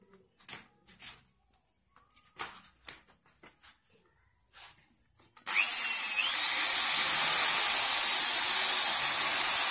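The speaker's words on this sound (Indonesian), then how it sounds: "Ini adalah proses pengeboran." A power drill bores into a part while a speed-controlled fan unit is built, kicking in loud and steady halfway through after quieter scattered taps and handling noises.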